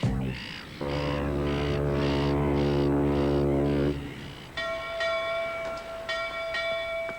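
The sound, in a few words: bell ringing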